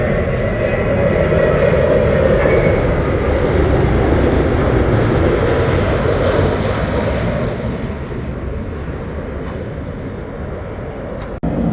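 British Airways Boeing 787-10 Dreamliner landing at Heathrow: a loud, sustained broadband jet roar that holds steady, then eases slightly toward the end.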